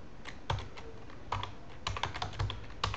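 Someone types commands on a computer keyboard up close, producing quick irregular bursts of clicking keystrokes over three seconds.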